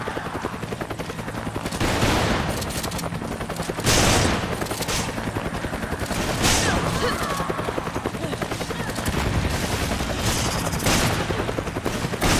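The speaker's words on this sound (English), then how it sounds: "Gunfire." Bursts of rapid gunfire crackle over a steady mechanical drone, with heavier blasts every couple of seconds, in the video game Resident Evil 5.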